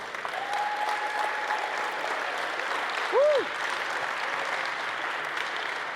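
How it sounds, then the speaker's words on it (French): Audience applause at a festival plenary session thanking an event organiser, a moderate, steady patter of clapping from a hall crowd throughout, with a brief whistle-like tonal sweep near the middle. "On peut l'applaudir."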